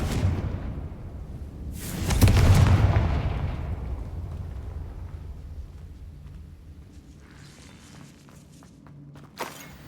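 A Confringo blasting spell goes off in Hogwarts Legacy with a loud booming burst that swells and slowly decays over a few seconds, followed by a sharper small crack near the end.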